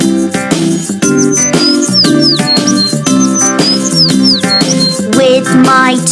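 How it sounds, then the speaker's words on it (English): Bright bird chirps and whistles repeat over a steady backing of nursery-rhyme music, the calls sliding up and down in short phrases. "I can hear a bird"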